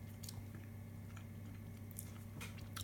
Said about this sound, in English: Let me finish my bite.